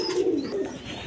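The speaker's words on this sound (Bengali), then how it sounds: "দর্শক এখানে দেখেন এক পেয়ার কবুতর আছে, আপনার ক্রিমবার বিউটি কবুতর।" A pair of cream bar beauty pigeons coo nearby in a few soft, rolling low calls over about a second.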